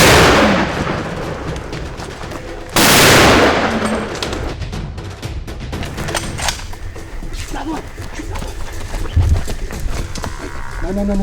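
Rifle shots fired at a Cape Buffalo bull on a mountain safari hunt, one sharp loud report near the start and another at about three seconds, with later thuds amid outdoor noise and voices talking.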